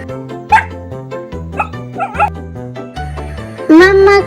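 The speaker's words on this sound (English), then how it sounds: "mommy dog, baby puppy" A cartoon dog yips and barks briefly within a children's animal nursery rhyme, set against bouncy synth music with a sung voice and melodic tones throughout.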